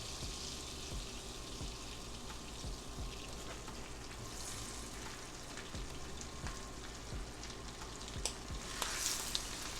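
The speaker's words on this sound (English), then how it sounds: "Y'all see the butter sizzling? That's how hot you want it." Butter sizzling in a hot pan on high heat while cooking salmon, a steady low crackling fry with occasional small pops and clinks, no talk.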